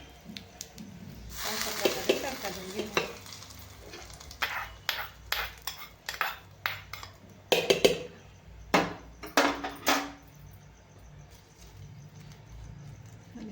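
Mango and mint chutney with reddened garlic and curry leaves being stirred in a pan with the heat off, a spoon scraping and clinking against the metal in a quick series of close strokes, with a faint sizzle at first.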